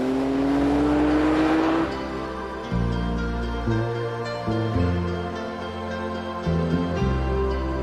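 A supercar accelerates hard at speed, its engine note rising in steps through quick gear changes, loud and close.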